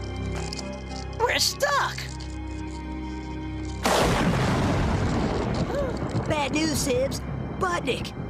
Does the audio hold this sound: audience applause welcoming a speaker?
no